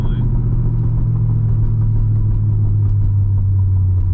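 Modified 2008 Chevrolet Corvette exhaust droning from inside the cabin while slowing, a loud, steady low hum that holds unchanged for the whole stretch.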